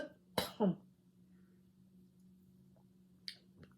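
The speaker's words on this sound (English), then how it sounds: "I'm going to cough." A single short cough, followed by a quick throat-clearing sound, then near silence with a low hum and a couple of faint clicks.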